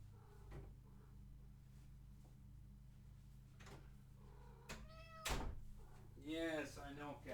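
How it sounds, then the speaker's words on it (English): A pet cat meowing at a door as it is let inside, a few short meows near the end following cupboard or door knocks under a steady room hum, with a person talking nearby. "Hold on, I gotta let my cat in."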